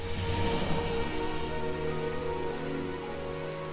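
Steady rain pattering on a surface, a dense continuous patter at an even level throughout, with no voices.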